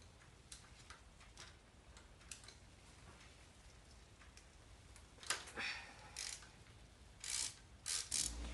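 Ratchet with a 12mm socket on an extension loosening a valve adjustment bolt on a B-series Integra engine, faint rhythmic ticking clicks that grow into louder bursts near the end, close.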